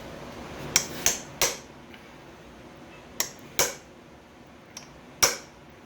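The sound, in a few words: chisel removing Ford timing cover on 1938 Ford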